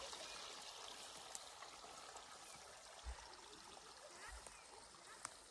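A forest stream in Norway flows steadily as a continuous broadband rush of water, fairly close, with a few faint low thumps but no clear speech.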